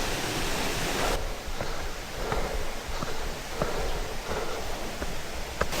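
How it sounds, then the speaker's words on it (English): Waterfall beside a hiking trail, a constant broad rushing roar of water with scattered light taps and rustles over it, no speech. "Look at that waterfall."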